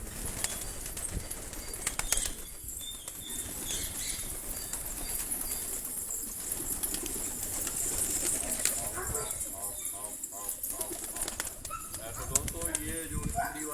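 Racing pigeons in a loft coo softly amid a busy, noisy background with occasional wing flaps, while a person talks over them.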